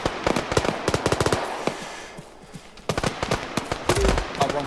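An artillery barrage in the military game Arma 3 sets off rapid bursts of sharp explosive cracks in dense clusters, pausing briefly before another volley rattles in, with a voice heard faintly among them.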